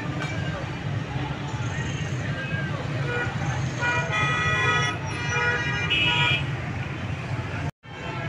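Congested street traffic in Taxila, crowded with rickshaws and a stuck police vehicle, rumbles steadily as horns toot repeatedly, with one longer tonal honk toward the end and a brief dropout near the close.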